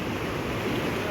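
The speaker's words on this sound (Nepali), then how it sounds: "आज चाहिँ पानीको चाहिँ हेभी स्पिड छ।" The flooded Teesta river at Melli rushes past at high speed. It is a dense, steady roar of churning water with wind noise on the microphone, heard alone.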